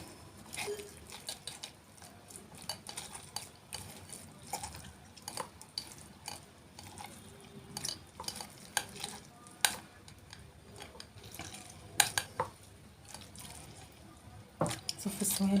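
Liquid is strained out of grated onion for chicken kofta, with faint, irregular drips and pattering, soft squeezing and stirring noises, and a voice occasionally in the background.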